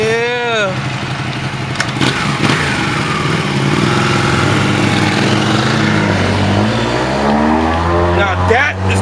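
An Italian car engine revving hard and driving off, its loud, close whine sweeping up and down in pitch and then settling into a sustained roar.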